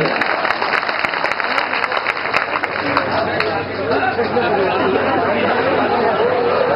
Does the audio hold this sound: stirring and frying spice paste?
no